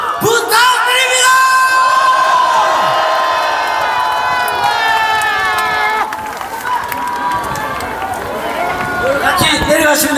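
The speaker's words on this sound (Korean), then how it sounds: "뜨거운 박수" A crowd cheers and whoops loudly with voiced shouts and yells over a background of clapping at a public event during a visit to President Park Chung-hee's birthplace, the cheering easing slightly in the second half.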